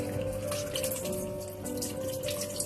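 A tap runs steadily nearby, water splashing into a sink with a constant rushing flow and a faint hum underneath.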